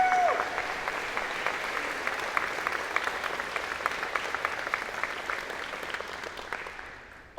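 Sustained audience applause honoring staff at a college of engineering and computer science convocation, many hands clapping in a large hall at a steady, moderate level that tapers slightly near the end.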